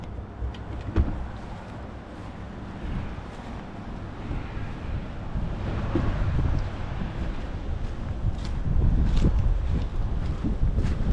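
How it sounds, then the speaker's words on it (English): Wind blows across an outdoor garden, heavy gusty rumbling buffeting the microphone, growing stronger toward the end, with no talking. "A little windy out here today."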